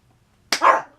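A single sharp dog bark bursts out after near silence, loud and close, with a short trailing yelp-like tail.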